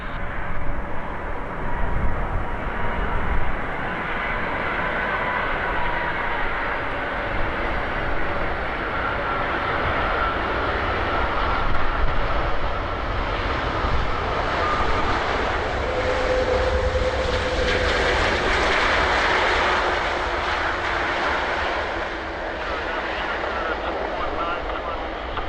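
An aircraft coming in to land at Vancouver airport gives a steady, loud, broadband engine roar that holds for most of the stretch and eases slightly toward the end, with radio talk between pilots and the tower over it.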